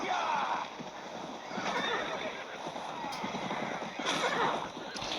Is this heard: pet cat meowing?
no